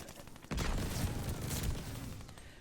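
Rapid hip-fired bursts from the EX1 energy rifle in Vanguard, a sharp dense volley of close shots starting abruptly and rattling on for about two seconds.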